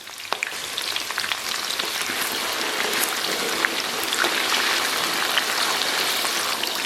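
Scallion, ginger and Pixian doubanjiang sizzle steadily in hot oil, a dense continuous crackle with scattered pops and spatters, close and loud throughout, with no voices.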